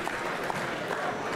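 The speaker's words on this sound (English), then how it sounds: "Let's have a round of applause for Olivia and Tula." Crowd at a K1 kickboxing event applauding fighters Olivia and Tula after their bout, a dense, continuous spread of clapping from many hands with faint crowd noise mixed in, steady throughout.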